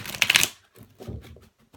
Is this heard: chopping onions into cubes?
no